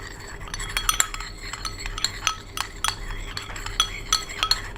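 Homemade dark circle cream with oils and desi ghee being mixed in a small container, a quick, irregular run of close clinks and scrapes from a metal spoon against the dish, with no talk.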